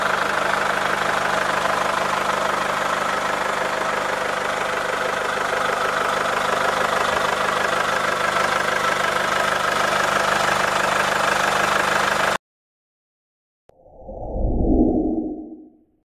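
A diesel family car engine idles steadily for about twelve seconds with a constant low rumble. It cuts off abruptly, and after a short silence a brief, soft low whoosh rises and fades.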